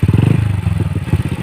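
A motorcycle engine idles loud and close after carburetor tuning, a steady rapid pulsing thump with slight unevenness, alone without talk.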